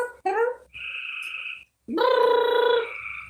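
Frogs croaking loudly and close by, a few separate harmonic calls with short pauses between them, the last one long and drawn out.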